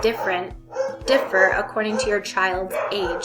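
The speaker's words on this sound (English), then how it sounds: "excuse my dogs in the background if you can hear them." Several dogs bark in repeated sharp bursts, fairly close and loud, overlapping with someone talking steadily throughout.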